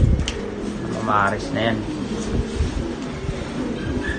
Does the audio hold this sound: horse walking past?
no